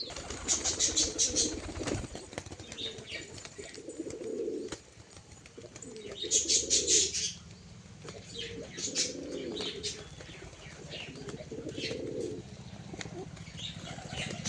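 Pigeons being fed peanuts coo repeatedly up close in soft, throaty bursts, with a few brief wing flutters and chirps scattered between the calls.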